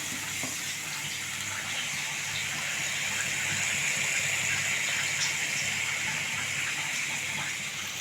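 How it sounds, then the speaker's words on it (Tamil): A tumbler of water pours onto chicken cooking for samosa stuffing, a steady unbroken gush lasting about eight seconds with no talking. "இப்போ இதில் வந்து 1 டம்ளர் தண்ணி ஊற்றிக்கிறேன்."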